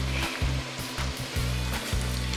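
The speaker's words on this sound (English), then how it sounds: "It's been frying for about 10 minutes or so." Steady sizzling of fish deep-frying in hot oil in a basket, a continuous hiss with a low rhythmic hum beneath, no voices.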